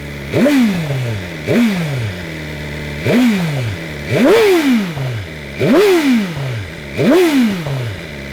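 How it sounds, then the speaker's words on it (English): A BMW M 1000 R motorcycle engine revved six times in succession, each blip rising sharply then falling back to a lumpy idle, close and loud with mechanical clatter between the revs. "I'll give you a little rev for you."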